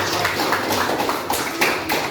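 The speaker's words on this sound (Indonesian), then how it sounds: "Oke, ya, tepuk tangan bagi kita." A classroom group clapping hands together, a dense patter of many overlapping claps sustained steadily and loud close by, with no talk over it.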